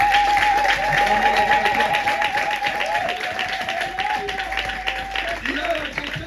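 A church congregation claps and cheers during a Sunday service, a broad wash of applause under a sustained voice and crowd noise, fairly loud and continuous.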